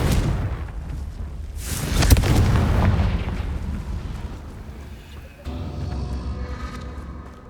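Confringo spell blasts in Hogwarts Legacy combat, loud booming explosions with a strong crack around the peak, followed by rumbling decay and a second burst of game effects.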